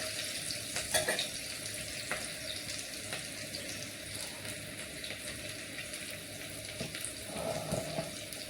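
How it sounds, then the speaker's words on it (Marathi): Chopped onion sautés in a pan over a medium gas flame while potato bhaji is being made, giving a continuous soft sizzle with faint scraping and clinking of a stirring spoon throughout. "कांदा इथे आपला व्यवस्थित परतत आहे।"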